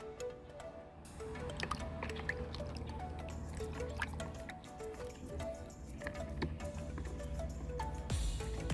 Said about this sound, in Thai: โดยการล้างน้ำเปล่ากันก่อนครับ